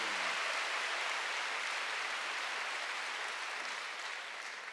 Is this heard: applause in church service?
yes